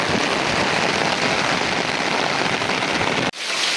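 Heavy rain pours down in a dense, constant roar of drops on surfaces, loud and unbroken, cutting off abruptly near the end.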